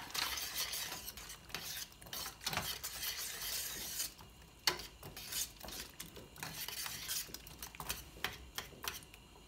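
A utensil stirs corn into a pan of chicken and noodles, giving soft scraping and clinking against the pan with intermittent louder knocks, close and steady, with no talking.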